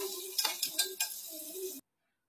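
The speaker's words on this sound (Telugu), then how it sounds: "పచ్చిమిర్చి వేసి, ఉల్లిపాయలు మనం కట్ చేసి పెట్టుకున్న ఉల్లిపాయలు వేసి బాగా ఫ్రై చేసుకొని" Onions, green chillies and bay leaves frying in a pan, with a few sharp scraping stirs over a steady sizzle for under two seconds before cutting to silence.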